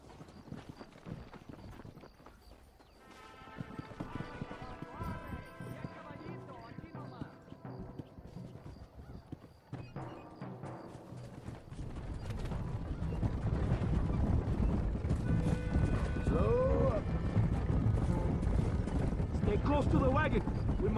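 Rhythmic clip-clop of horse hooves in the video game Red Dead Redemption, faint at first then louder and busier, with voices and other activity mixed in.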